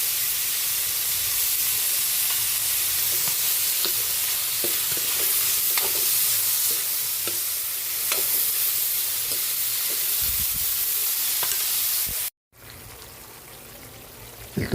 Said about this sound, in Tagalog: Malambot na po yung nagisa na yung ating chicken liver. Sabay na natin ang celery.